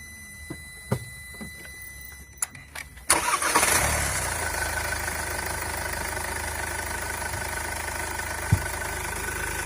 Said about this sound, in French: nous allons démarrer le véhicule pour vérifier le bon fonctionnement du moteur